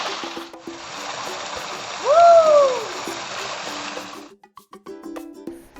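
Water splashes and churns close by in a cold outdoor swimming pool at the Mahabaleshwar hill station during the monsoon. A steady rushing wash carries a brief rising-and-falling whistle-like tone, then cuts off into a few scattered small sounds.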